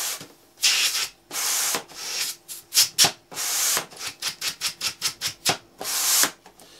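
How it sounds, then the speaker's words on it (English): Rapid rhythmic hissing whooshes of a bicycle pump being worked, around fifteen strokes, starting slow and quickening in the middle, with no talking. "This is a bicycle pump,"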